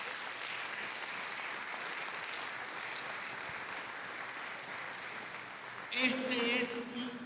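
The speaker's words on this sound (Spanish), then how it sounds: "yo le daría un aplauso al Señor." Sustained applause from a church congregation during a sermon, steady and dense, running evenly across the clip before a voice cuts in loudly near the end.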